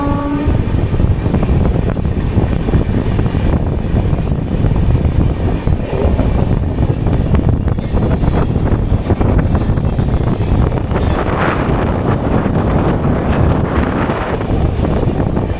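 The Ernakulam–Tatanagar Express is running at speed, heard from inside an AC three-tier coach, a loud continuous roar of wheels and rattling under a dense rumble, with faint high squeals late in the run.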